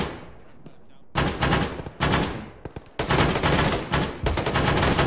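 Gunfire in the military video game Arma, with loud bursts of rapid automatic fire cutting in after a quiet start and repeating in several long volleys, close and harsh.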